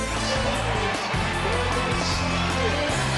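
Dense, loud roar of a basketball crowd at the Pan-Am Center in Las Cruces, a broad sustained din with cheering swells throughout.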